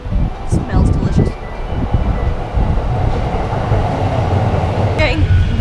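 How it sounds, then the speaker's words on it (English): A yellow commuter train in Tokyo rumbles loudly and close, with rhythmic wheel clatter and a brief high squeal near the end, while a few voices speak underneath. "Getting the yellow train."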